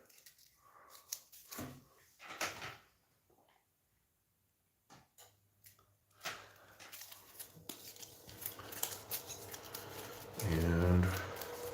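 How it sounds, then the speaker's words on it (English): A deck of cards is shuffled close by in several brief papery bursts, separated by short pauses, ending with a quick riffling flutter. "I'm going to shuffle these back up again."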